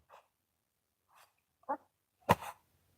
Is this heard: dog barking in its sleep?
yes